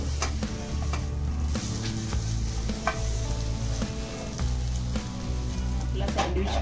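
A sandwich toasts in a hot pan with steady, loud sizzling and frying, broken by a few soft scrapes and knocks as it is flipped over.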